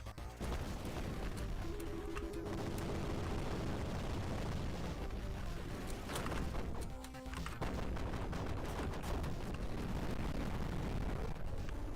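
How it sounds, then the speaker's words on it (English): Continuous roaring, crackling blasts and booms from explosions in the video game Splinter Zone, dense and loud with no break, like rapid gunfire mixed with detonations. "I don't even make much of an effort to dodge those explosions."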